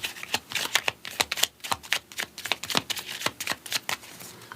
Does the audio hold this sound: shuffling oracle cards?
yes